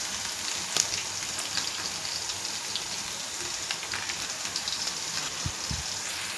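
Potatoes frying in oil with tempering spices, dried red chillies and curry leaves crackle in a continuous dense patter like rain, with a few sharper pops near the start and no voices.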